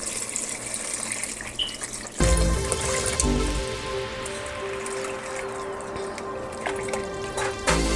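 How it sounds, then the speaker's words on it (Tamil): Water for a vegetable brinji rice is poured into a cooking pot, starting suddenly after a quiet moment and running as a steady, close splashing pour. "இப்போ நம்ம தண்ணி விட்டுடலாம்."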